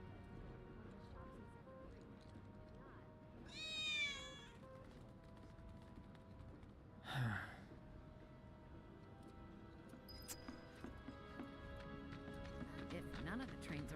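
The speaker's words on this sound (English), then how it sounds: "I swear I just heard a cat." Cat meowing in the video game Final Fantasy VII Remake: two short rising meows, around the four- and seven-second marks, standing out over a steady game background hum.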